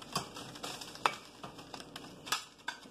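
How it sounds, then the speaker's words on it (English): A spoon stirs cooked garden greens mixed with drained pimentos and lemon juice in a pan. Light, scattered clinks and soft scraping come through faintly over a quiet sizzle, with no talking. "And so, just stirring it up."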